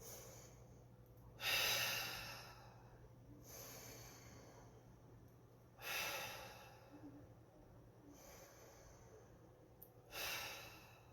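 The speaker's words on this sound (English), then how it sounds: "just take 3 deep breaths" Three slow, deep breaths taken during a relaxation exercise, each a long airy whoosh spaced about four seconds apart, close and soft over a quiet low hum, with no speech.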